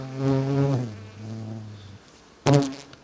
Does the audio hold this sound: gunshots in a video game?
no